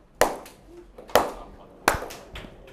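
Students in a classroom clap their hands three times in unison, three sharp evenly spaced claps close by with short tails and no other sound between them.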